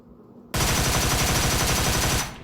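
Scorpion submachine gun in PUBG Mobile firing one continuous full-auto burst of close, loud, rapid shots for under two seconds, heard alone without talk.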